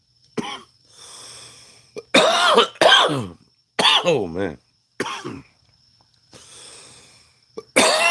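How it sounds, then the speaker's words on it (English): A man in his mid-forties gives several dry coughs and throat clears in uneven bursts, close and loud, with a short spoken exclamation among them. "having this dry cough lately."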